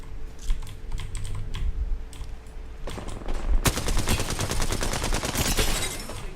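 Rapid bursts of automatic gunfire from the Apex Legends video game fill the second half, loud dense rattling following sparser clicks and taps earlier on.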